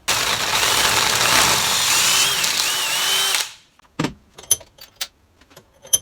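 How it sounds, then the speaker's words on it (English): A power drill whirs loudly and continuously for about three seconds, drilling 3/8-inch holes in battery cable lugs, then stops, followed by a few sharp metallic clinks and taps. "I'm going to go ahead and drill these out to 3/8."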